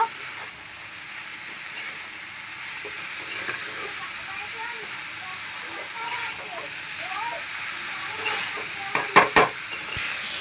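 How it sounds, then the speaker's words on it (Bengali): Chickpeas and tarka being fried and stirred into masala in a pan, a continuous sizzle with scraping stirs and a few sharper clatters near the end, with some faint voice underneath. "এবার আমি তরকা আর ছোলাটা দিয়ে দেবো, পুরোটাই দিয়ে দেবো। এটা দিয়ে ভালো করে কষে নেব।"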